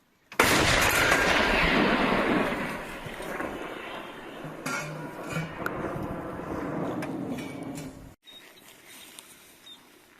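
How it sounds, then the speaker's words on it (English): Russian artillery gun fires a shell in one loud, close blast whose deep rumble rolls on for several seconds, then cuts off abruptly. "Alright, so that was the last shell they're firing now."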